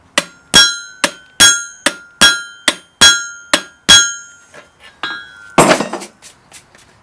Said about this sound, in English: Apologies to my anvil for cold hammering on it